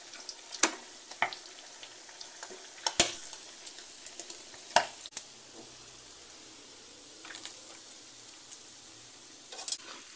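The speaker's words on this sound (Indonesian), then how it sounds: "Sangrai bawang putih 5 siung, bawang merah 5 siung, cabai rawit 1 genggam" Garlic, shallots and bird's eye chilies dry-roast in a pan with a faint steady sizzle, punctuated by sharp scattered clicks and scrapes of stirring, close and fairly quiet.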